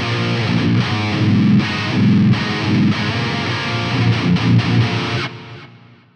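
High-gain, heavily distorted rhythm tone from an open-tuned ESP LTD electric guitar through a Fractal AX8 on its first scene, chugging loud and thick in prog-metal riffs before ringing out and fading at the end.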